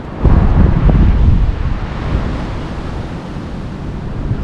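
Strong gusting wind buffets the microphone outdoors in sunshine while flower and sunchoke tubers are dug up, with a loud rumbling blast at the start that eases into a steady blustery roar.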